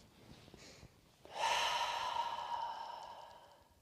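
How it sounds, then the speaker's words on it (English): A slow, deep breath drawn in during a guided meditation, a soft breathy rush that swells and holds steady for a couple of seconds, close and fairly quiet, with no talking over it. "Nice deep breath in"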